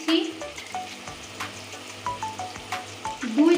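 Chopped onions fry with salt in a pan, crackling and sizzling softly up close, broken by repeated scraping of a spoon stirring them.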